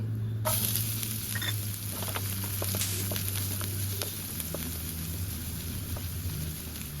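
Dried red chillies and onions sizzle and fry in hot oil in a pan, a steady close crackle with occasional spoon scrapes and pops throughout, no talking.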